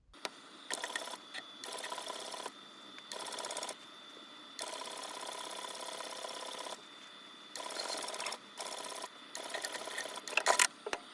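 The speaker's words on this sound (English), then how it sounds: "once we get over to the sewing machine is we are going to stitch along the raw edge of the flap" A sewing machine stitching along the raw edge of a bag flap runs in repeated bursts of rapid mechanical whirring, broken by short pauses, close and steady, with a few clicks near the end.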